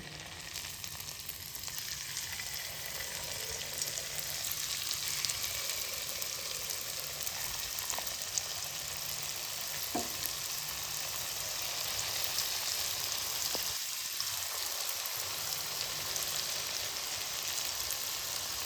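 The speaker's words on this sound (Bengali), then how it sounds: "তেল ভালোভাবে গরম হয়ে গেছে, চিপসগুলো দিয়ে দেবো।" Homemade tomato chips frying in hot oil in a wok, a steady dense sizzle and crackle running throughout at close range, with occasional faint clinks.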